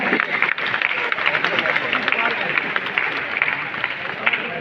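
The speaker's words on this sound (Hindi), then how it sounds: "तालियां भी फर्स्ट प्राइज वाली तो बजाइए कम से कम" A crowd at a prize ceremony claps steadily, dense and sustained applause throughout, with voices faintly mixed in beneath the clapping.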